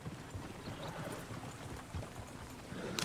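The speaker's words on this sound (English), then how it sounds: "Oh, shit, the horses! Damn horses!" Horses' hooves clip-clop in rapid, steady rhythm in Red Dead Redemption 2, fairly close, galloping without talk.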